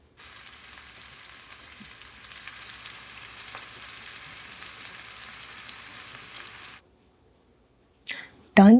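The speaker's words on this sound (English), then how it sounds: "Place the paneer pieces carefully into the oil." Paneer pieces shallow frying in hot oil on a medium flame give a steady close crackling sizzle, then it stops suddenly, followed by a short silence and a brief clatter at the end.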